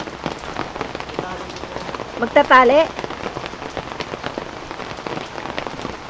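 Steady rain patters on a surface throughout, with a brief spoken question rising over the downpour partway through.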